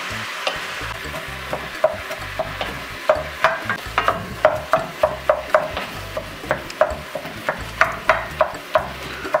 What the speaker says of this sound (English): And our chopped garlic. Stir that up real good.